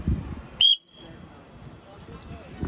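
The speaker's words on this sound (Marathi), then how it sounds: "शिट्टी मारायला लागेल" One short, shrill whistle blast sounds up close, followed by quiet background noise.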